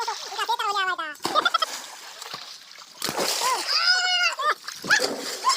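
Water splashes and sloshes in a village swimming pool, with bursts of splashing between children's shouts and chatter close by.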